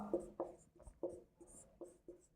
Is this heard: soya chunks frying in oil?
no